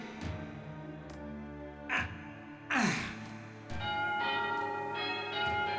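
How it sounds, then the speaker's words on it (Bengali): A bell is struck several times at irregular intervals, each ring sharp and resonant, with a long ringing decay that overlaps the next stroke. "বাজাও না, ঘন্টাটা বাজাও।"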